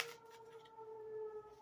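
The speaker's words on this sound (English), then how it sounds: "those sirens." A distant siren wails as a thin, steady tone, faint beneath a brief noisy burst at the start, holding its pitch over the short stretch.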